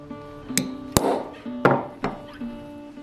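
Sharp hammer blows drive a freshly sharpened punch into annealed O1 tool steel, four distinct metallic strikes with ringing overtones spaced about half a second apart, close and fairly loud, with no talking.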